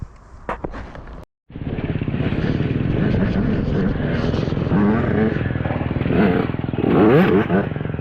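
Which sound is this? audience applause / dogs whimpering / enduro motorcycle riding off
enduro motorcycle riding off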